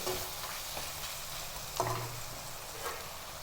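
Brinjal pieces cooking in a pan for vangi bath give a steady, close sizzle, broken by a few short stirring scrapes.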